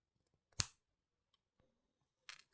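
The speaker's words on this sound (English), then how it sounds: "if you take your cutters and cut this way" Cutters snip through coiled wire jump rings for a jewellery bracelet chain, giving one sharp, close click followed by a fainter, quicker double snip about two seconds later in an otherwise quiet room.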